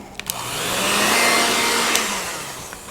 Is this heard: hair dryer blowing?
yes